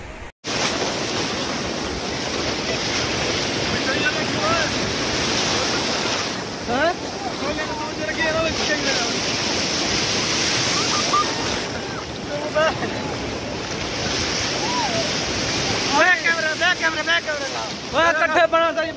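Rough sea surf crashes continuously and loudly at a beach where a group of friends has gone, with heavy wind buffeting the microphone and intermittent voices and shouts of people enjoying the water underneath.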